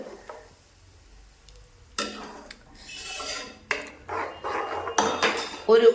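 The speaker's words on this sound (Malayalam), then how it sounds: "വിടാതെ ഇങ്ങനെ ഇളക്കിക്കൊണ്ടിരിക്കണം കണ്ടോ" Chutney for Thattu Dosa, the roadside eatery style, stirred in a heated pan, with spoon scrapes and clinks against the metal coming in bursts, faint at first and then louder and busier, with a little sizzle.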